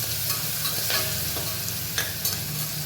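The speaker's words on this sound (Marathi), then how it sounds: "नंतर त्यात घालतोय हे काजू आणि मग हे एकदा आपण व्यवस्थित परतून घेणार आहोत।" Cashews and ginger-chili paste sauté in a hot pan with a steady broadband sizzle, while a few soft scrapes from stirring cut through near at hand. Nobody speaks.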